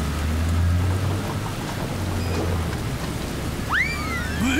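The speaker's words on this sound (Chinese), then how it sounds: "哦吼，下雨了" Steady rain hisses through a scene in an animated children's cartoon, a loud, unbroken wash of downpour with a low rumbling bed. A couple of swooping whistle-like tones cut in near the end.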